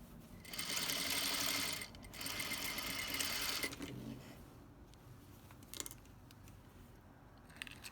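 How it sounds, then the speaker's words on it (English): A sewing machine stitches a half-inch seam on a gathered dashiki skirt, two steady whirring runs of about a second and a half each, then quieter fabric handling and a few light clicks. "So I'm going to sew it at 1/2 inch"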